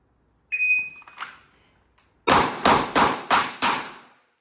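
A shot timer gives a sharp electronic beep, then a Glock 19 pistol fires five rapid, evenly spaced shots at close range on a shooting range, each report loud and crisp with a short decay.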